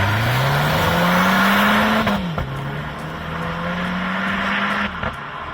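A Renault Clio RS with its exhaust resonator removed revs up as the engine pitch climbs, drops sharply at a gear shift, then climbs again, loud and near with a raspy drone.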